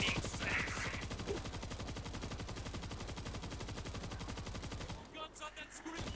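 Rapid automatic gunfire from the zombie shooter game World War Z, a loud, dense stream of evenly spaced shots firing continuously for about five seconds before cutting off, with faint talk beneath.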